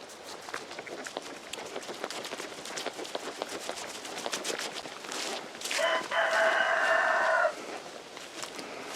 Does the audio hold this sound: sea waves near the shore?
no